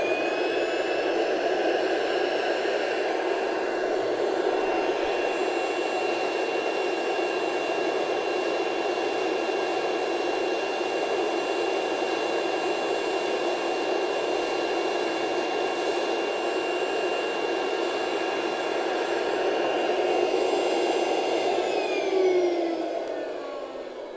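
Vacuum forming machine drawing its vacuum, a loud, steady roaring whoosh with a faint whine that holds for about twenty seconds before tapering off, with no talk.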